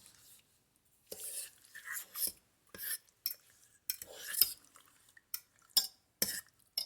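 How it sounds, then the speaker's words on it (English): Seasoning is stirred into a slow cooker with a fork, making soft, irregular clinks and scrapes in short separate bursts with quiet pauses between them. "Let me get my fork out and I'm going to mix it up. Mix up the seasoning here."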